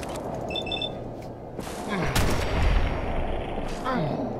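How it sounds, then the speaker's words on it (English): Gunfire in Fallout 4 crackles in several bursts, with heavy thuds and a booming impact near the middle, over a dense, noisy battle backdrop with a voice in places. "Stop shooting me, please."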